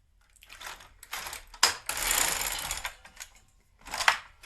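GK 370 knitting machine carriage pushed across a row: a series of clattering, rushing mechanical sweeps with clicks and a louder central pass, close and moderately loud.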